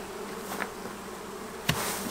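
Honey bees in a hive box give off a steady, quiet buzzing hum throughout, with a brief louder knock or bump partway through.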